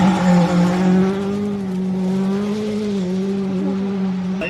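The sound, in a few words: rally car driving through a hairpin on a stage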